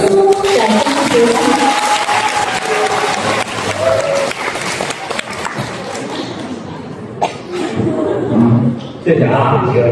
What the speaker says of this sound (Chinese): 谢谢大家伙这个热情的掌声。